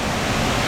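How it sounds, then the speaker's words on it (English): Water pours hard at the base of Mingo or Soco Falls in Cherokee, North Carolina, where two streams meet. The roar is close, loud and constant, with no voices. "Water's pouring in, if you can even hear me."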